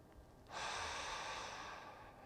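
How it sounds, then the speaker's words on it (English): A slow breath drawn in through the nose and let out through the mouth during an equal-ratio breathing exercise, one long, close, airy breath rising after a quiet start and holding steady to the end. "inhale through your nose, exhale through your mouth"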